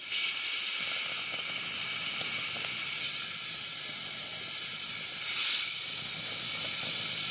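Compressed air blown through an outboard motor to push oil out, a steady loud hiss of escaping air lasting several seconds, swelling briefly near the end.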